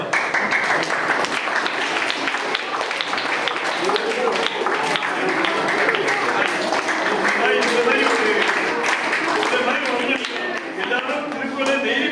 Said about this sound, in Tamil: அது எல்லாரும் கைத்தட்டலோடு